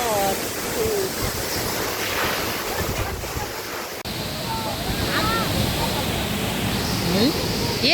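Waterfall in a canyon at Pokhara, a continuous broad rushing roar mixed with gusty wind noise on the microphone, and faint voices or calls over it.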